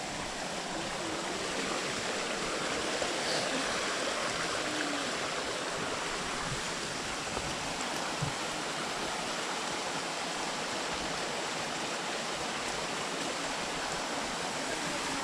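Water rushes steadily from a waterfall and stream along a walking trail near Medellín, Colombia, a constant broadband roar that stays close and even for the whole stretch, with no clear voices over it.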